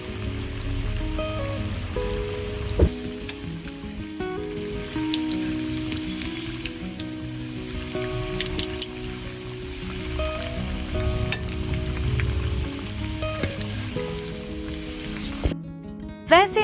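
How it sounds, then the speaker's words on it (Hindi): Small snacks made from boiled potatoes fry in hot oil over a medium flame, giving a steady, dense sizzle and crackle throughout with occasional faint clinks and no talking. "तो चलिए अब इन्हें गरम तेल में तलते हैं।"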